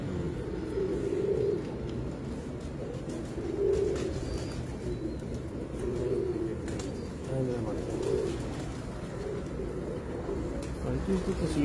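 Breeder pigeons coo steadily in repeated low, throaty phrases at an even rhythm, moderately close, with a steady murmur of ambient noise and possible voices in the background.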